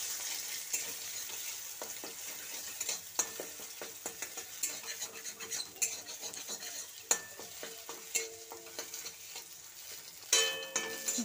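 Egg bhujia frying in hot oil in a pan, a steady sizzle broken by frequent scraping and clacking of a spatula stirring against the metal, close and continuous.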